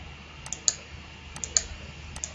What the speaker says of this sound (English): When I type in 54.dat, this guy